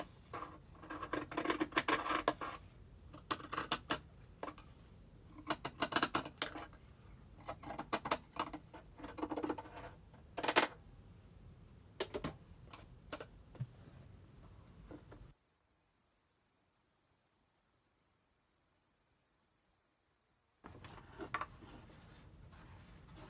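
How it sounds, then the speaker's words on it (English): Pinking shears trim close to the edge of a fabric mask, giving faint, irregular crisp snips and scratchy cutting sounds. A gap of near silence falls partway through, then the snipping resumes. "I'm gonna use the pinking shears and just trim close to the edge"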